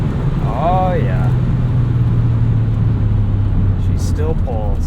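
A Volvo 850R's engine pulls hard under acceleration, a steady, loud, close drone held throughout, with brief voice-like sounds rising over it.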